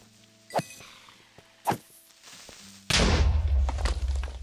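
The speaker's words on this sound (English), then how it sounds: "That explosion didn't sound like a normal one." In a hardcore Minecraft survival game, two dull thuds are followed by a sudden distant explosion that bursts into a sustained low, rumbling roar.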